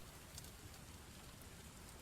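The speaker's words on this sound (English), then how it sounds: "It is currently raining" Steady rain falls outside, a dense continuous hiss of drops with no talk, even in level throughout.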